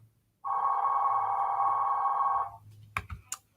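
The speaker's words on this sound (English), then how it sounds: "I'm just gonna let that ring because that's not anybody." Office telephone ringing on a quiet Sunday morning at a closed business, a steady electronic ring tone lasting about two seconds, close and clear, followed by a few short clicks and handling knocks.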